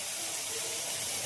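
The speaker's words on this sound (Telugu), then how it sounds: "ఇప్పుడు దీంట్లో మనం వాటర్ వేసుకోవాలన్నమాట." Water pours steadily into a pot of meal maker biryani with turmeric, a continuous hissing splash throughout, close and fairly soft, with no voices.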